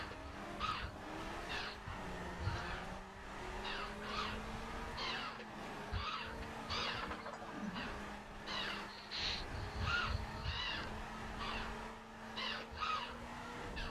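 Car drifting in a video game, repeated short tire skids and squeals over a steady engine tone, rhythmic bursts of screech recurring every second or so, no talking.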